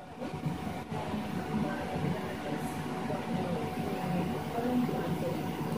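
A train rolls past in Liberty City in GTA San Andreas, a steady, moderately quiet rumble of wheels and cars over background game ambience.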